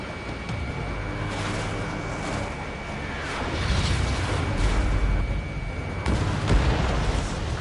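Aircraft cannon fire from a jet in the Ace Combat video game, heavy booming bursts over a constant roar of engine and battle noise, loudest in the second half.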